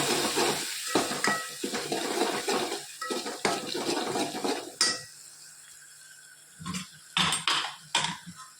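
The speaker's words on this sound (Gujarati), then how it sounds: "લાલ મરચું, મીઠું થોડુંક જ આપણે હાલ નાખીશું. સરસ મિક્સ કરી લઈએ." A metal spoon stirs red chilli powder and salt into a cooking pan with busy clinks, scrapes and a light sizzle, then pauses briefly before a few more sharp taps and knocks on the pan. No one speaks.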